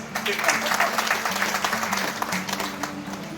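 Loud, sustained audience applause fills a hall at a magazine's anniversary celebration in Bhajanpura, Delhi, with dense clapping that stays steady throughout, steady hum underneath.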